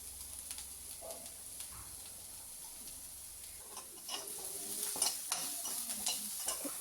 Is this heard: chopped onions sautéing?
yes